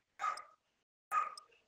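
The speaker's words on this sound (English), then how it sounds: "That's my sister-in-law's dog." A small indoor dog gives two sharp, fairly faint barks about a second apart, with silence between them and no one speaking.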